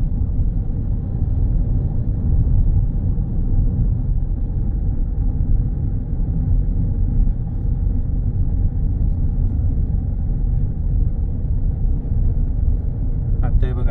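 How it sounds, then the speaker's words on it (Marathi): Steady road rumble from inside a car crawling along a highway crowded with trucks, a dense continuous low drone from start to finish that covers everything else. "जिकडे तिकडे फक्त ट्रक्स आहेत."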